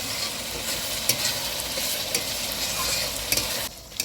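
Ginger paste fries with spices in hot oil for a rohu fish curry, a steady close sizzle with occasional stirring clicks that cuts off abruptly near the end.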